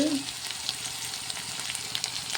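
Ginger garlic paste frying in a pan for a home vegetable curry, giving a steady broadband sizzle with faint stirring scrapes, close and continuous with no talking.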